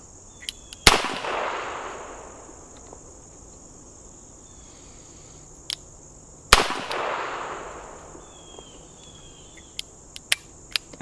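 Two sharp, loud shots from a Smith & Wesson 65-3 .357 Magnum revolver, several seconds apart, each with a long decaying echo, over a steady insect-like outdoor hum.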